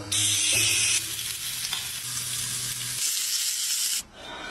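Loud, close sizzling and crackling of steak frying in a pan heated to 300-320 degrees, with a low hum underneath, before the hiss drops away.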